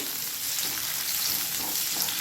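Onion sautéing in a pan for an egg gravy, a soft steady sizzle and frying crackle heard close up and alone, fairly quiet throughout.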